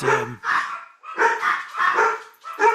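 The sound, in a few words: dogs barking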